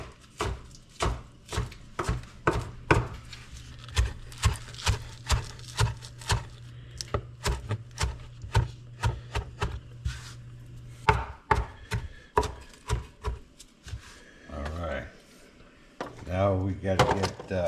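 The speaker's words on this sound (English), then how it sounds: "we're going to go ahead and chop up the spinach" Spinach is chopped with a knife on a cutting board in a steady run of close, sharp rhythmic knocks, followed later by brief voices and kitchen handling sounds.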